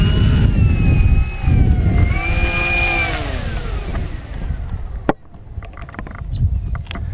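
An LX Models B-25 Mitchell RC model bomber flies past with a loud twin-engine drone that rises and falls in pitch, then fades into the distance over wind noise.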